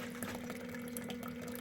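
Mash liquid cascades steadily through the malt pipe of a Brewtools B40pro during a Kölsch German ale brew, a continuous close splashing and trickling with a faint steady pump hum beneath.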